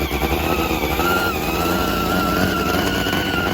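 A 1,500-horsepower supercharged top fuel nitro motorcycle engine roars loudly and steadily with a high-pitched whine on top, close and sustained without letting up.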